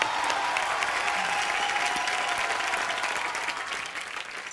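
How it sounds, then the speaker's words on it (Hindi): Studio audience applause on a Hindi comedy talk show, a sustained wash of many hands clapping together that holds steady and then gradually tapers off, with no speech over it. "ताली।"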